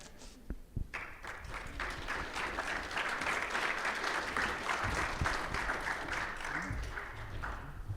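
An audience at a panel event breaks into sustained applause as panelists come on stage, a dense wash of clapping that builds after a brief pause and holds steady, fairly distant.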